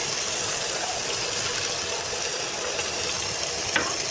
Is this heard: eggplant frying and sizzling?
yes